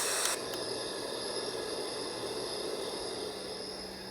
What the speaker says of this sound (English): And then summer nights.